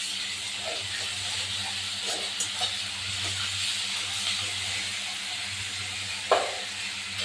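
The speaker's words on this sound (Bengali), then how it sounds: "আদা রসুনটা ভাজা হোক।" Ginger garlic paste frying in oil in a pan for a spicy ribbonfish curry: a steady, close sizzle and hiss runs throughout, with a couple of faint clinks and no talking.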